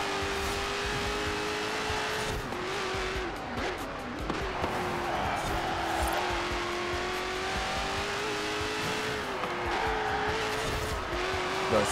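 A Dodge Demon races a V10-powered car in Forza Horizon 4, engines roaring steadily with rising and falling revs, shifts and tire squeal throughout, loud and continuous with a little talk underneath.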